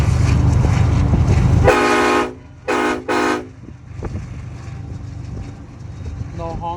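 Three loud train horn blasts from a custom horn setup, one long then two shorter ones in quick succession, over a steady engine rumble.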